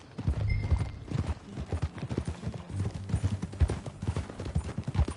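Horse hooves clip-clopping at a steady walking pace in Red Dead Redemption 2, close and clear, with a low rumbling game ambience and a brief tonal whine partway through.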